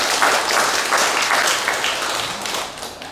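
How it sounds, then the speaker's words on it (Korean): Dense, steady audience applause at a Buddhist Wednesday dharma gathering, many hands clapping together continuously throughout, fairly loud and close with no voices standing out. "우리 자신들을 위해서 박수 한번 치십시오."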